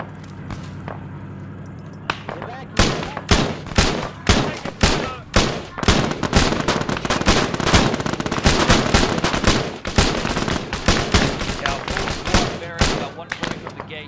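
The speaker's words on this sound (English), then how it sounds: "Firing coming south." Rapid video game gunfire, with dense bursts of automatic shots and single cracks overlapping loudly and almost continuously over a low background hum.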